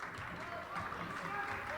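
A high school basketball bench claps together in a gym during a boys' game, a steady, fairly faint rhythmic clapping mixed with crowd noise and speech.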